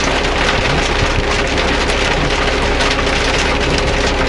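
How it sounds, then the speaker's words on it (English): Sleet pelting a truck on a highway, a dense, steady hiss of icy pellets striking the cab, loud and continuous with no talk. "It's the whiter stuff, so it's got to be sleet."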